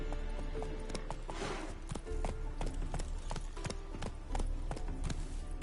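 The horse Roach trotting in The Witcher 3, with steady, evenly spaced clip-clop hoofbeats close by throughout and a brief rustling swell near the start.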